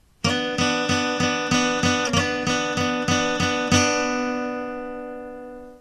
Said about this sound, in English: Altogether, these two strings are strummed 6 times before repeating the slide over again